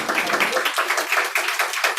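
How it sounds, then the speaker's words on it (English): An audience claps for a Bhagavata recitation at a devotional festival, producing dense, steady applause from many hands close by, with no talking. "Clap for this Bhagavata."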